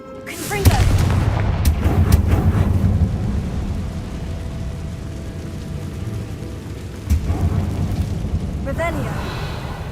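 Confringo blasting spell in Hogwarts Legacy: a deep booming blast with a rumbling tail, followed by a second, weaker boom later on, with continuous low background rumble.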